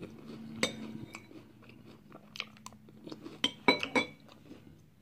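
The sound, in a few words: chewing crunchy Pop-Tarts Frosted Brown Sugar Cinnamon cereal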